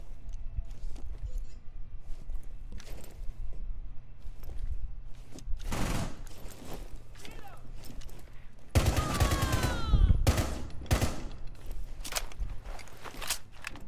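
Gunfire in the Rainbow Six Siege video game, with scattered single shots early on and then a dense, loud burst of rapid fire near the end, heard alone without talk.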